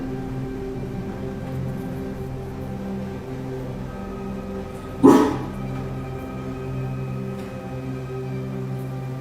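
A single loud dog bark cuts through a steady low hum in an old house, followed by a brief fading tail and quiet background.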